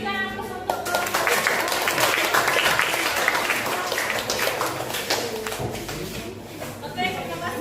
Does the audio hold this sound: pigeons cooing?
no